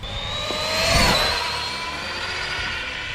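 A radio-controlled speed car makes a high-throttle pass, its electric motor a shrill whine that swells as it rushes past around the one-second mark and then fades, over steady outdoor background noise.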